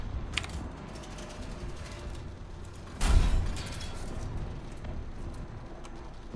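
A single tank cannon shot in War Thunder, a short low thump standing out midway through a quiet, faint mechanical background.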